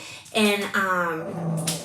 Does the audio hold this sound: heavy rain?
no